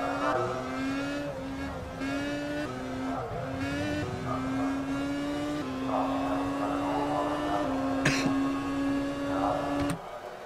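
Touring race cars of the Dork racing team run on track during free practice at the Italy round of the 2015 CRC, engines droning steadily with rising and falling pitch as they hold revs and shift, a sharp crack near the end.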